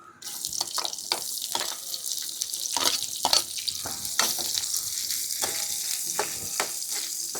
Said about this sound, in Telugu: ఇప్పుడు ఉల్లిపాయలు వేయించుకుందాం